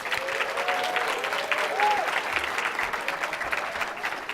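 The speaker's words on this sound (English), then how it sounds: "Just a round of applause" Steady applause from a crowd at a graduation celebration, a dense, even wash of clapping that carries on without a break, with a faint voice or tone rising through it.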